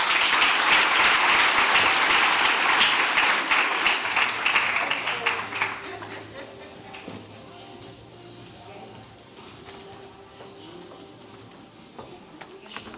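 Hall audience at a teaching and learning conference applauds after an address, a loud sustained round of clapping that fades out after about six seconds, leaving quiet room tone with faint voices.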